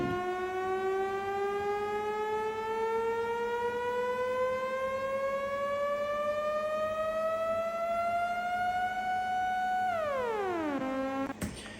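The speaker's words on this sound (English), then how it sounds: "You make your own little custom riser that just fits into your song" A synth riser built in Serum glides slowly upward in pitch as one steady, bright tone, then bends sharply down near the end before cutting off.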